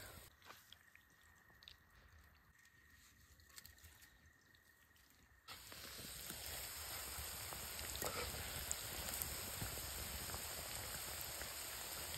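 Bell peppers drop into a hot wok in a bamboo-forest camp and burst into a steady, loud sizzle that jumps up suddenly and keeps crackling and hissing close by.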